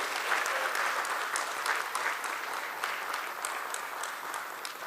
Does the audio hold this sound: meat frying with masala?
no